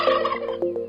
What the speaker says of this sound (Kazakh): Күркетауық күркілдейді.